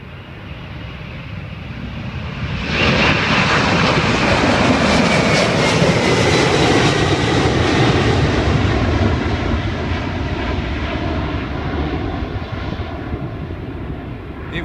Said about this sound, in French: C'est un départ pour notre avion qui s'élance.